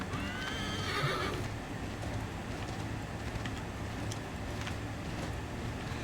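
A horse in Assassin's Creed III whinnies loudly at the start, then its hooves clip-clop steadily at a gallop over a continuous outdoor rumble, close and without any talking.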